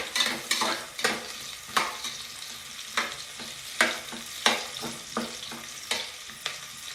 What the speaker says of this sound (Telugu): ఎర్రగడ్డలు బాగా ఎర్రగా వేగాలి.